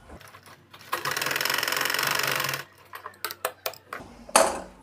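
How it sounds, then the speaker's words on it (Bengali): A sewing machine stitches a folded school skirt fabric, running in one steady continuous burst of rapid stitching followed by scattered short clicks and handling noises, close and clear with no talk. "এবার এটাকে যে ঘুরিয়ে দিলাম সেলাই করে দিচ্ছি"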